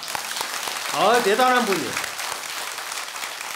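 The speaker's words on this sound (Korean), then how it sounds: "박수." Audience clapping at a Buddhist dharma talk during a Baekjung Jijang prayer service, a broad steady patter throughout the clip with a voice speaking over it.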